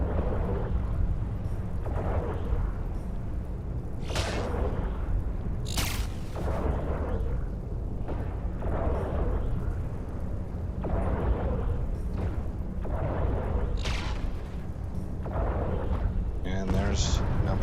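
Turret fire from a ship in EVE Online, a Punisher attacking an enemy vessel in an Abyssal fight, heard as repeated booming blasts at a fairly steady rhythm over a continuous rumbling backdrop, with a voice talking across it.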